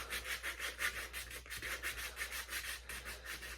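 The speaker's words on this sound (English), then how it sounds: "That's kind of personal preference because you are sanding up particles." A glitter pen is hand-sanded to rough off its shine, a faint rhythmic back-and-forth scratching of even strokes over a low steady hum.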